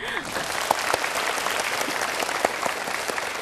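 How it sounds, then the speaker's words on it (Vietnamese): A studio audience on a TV quiz show applauding, a dense steady wash of clapping with a few louder individual claps standing out. "chúng ta dành tới chị một tràng pháo tay"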